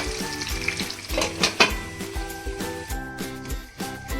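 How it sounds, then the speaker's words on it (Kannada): Mackerel pieces frying in a pan over a medium flame, a steady close sizzle punctuated by sharp popping spatters and a few scraping stirs, with no talking. "ಇದನ್ನು ಈಗ ಮೀಡಿಯಮ್ ಉರಿಯಲ್ಲಿ ಒಂದು 10 ನಿಮಿಷ ಒಂದು ಸೈಡು ನೀಟಾಗಿ ಫ್ರೈ ಆಗೋಕ್ಕೆ ಬಿಟ್ಕೋಬೇಕು"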